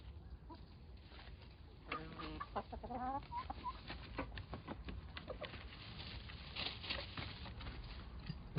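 Chickens cluck softly over a steady background rumble, with a few short clucking runs and light pattering sounds nearby.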